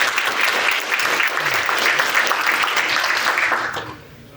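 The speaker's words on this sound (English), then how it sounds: "Let's give her a huge round of applause." A conference audience at an AI event in Mississippi applauds to welcome a university speaker to the stage, a full, close round of clapping that holds steady and then tapers off near the end.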